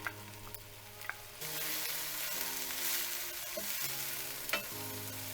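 Chopped scallions and minced garlic sautéing in a pan, a soft sizzle that swells when stirred, with light tapping and scraping of a utensil, quiet and close.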